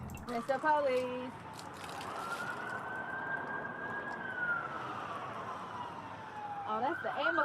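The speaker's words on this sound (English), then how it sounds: "Oh, that's the ambulance." An ambulance siren rises and holds a long wailing tone at middle distance, steady and continuous, with brief voices at the start and end.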